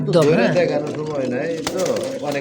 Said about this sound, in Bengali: অনেক কবুতর দেখেন